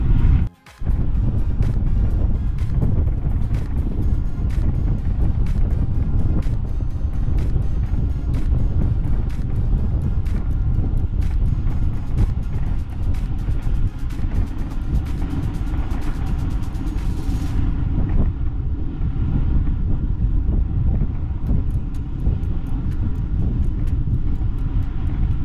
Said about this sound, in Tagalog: Ay, grabe, hangin.